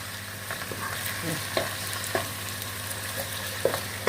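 Garlic frying with onions in a pan for an okra dish, a steady close sizzle broken by occasional scraping stirs and light clinks.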